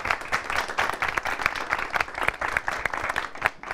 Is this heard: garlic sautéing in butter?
no